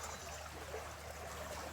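A small brook fed by springs and tributaries, flowing across a road ford by an old mill in Edlesborough, gives a faint, steady trickling and gurgling with no voices.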